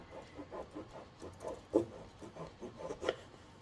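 A knife sawing through a frozen sausage roll, a quiet rhythmic rasp of back-and-forth strokes with a few sharper scrapes, close and without speech.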